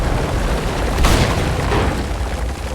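A single deep boom bursts out midway through a dense, rumbling background in the video game Battlefield 1, loud and close, with no speech.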